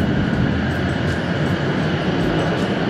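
A Japanese bullet train between Hiroshima and Onomichi roars through a tunnel, heard from inside the carriage as a steady, loud, dense rumble and rushing hiss with no let-up.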